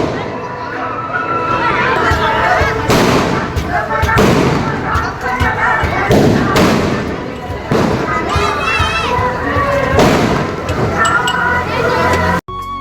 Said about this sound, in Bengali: তো আস্তে আস্তে দেখছি বাজি ফাটানোর সংখ্যাটা বাড়িয়ে যাচ্ছে